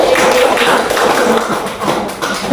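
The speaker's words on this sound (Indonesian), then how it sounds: "Kita beri tepuk tangan dulu untuk kelompok 1." Classroom of students claps for a group that has just finished its presentation, a dense, close burst of many hands with a faint voice underneath, tapering slightly at the end.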